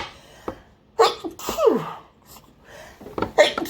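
A single loud human sneeze, preceded by a sharp inhale and followed by breathy exhalations and a short sniffing sound, close and clear.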